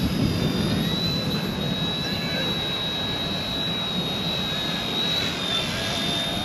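Steady high-pitched motor whine of a tiny Eachine E110 remote-control helicopter hovering and flying nearby, with a constant tone and low rumble throughout.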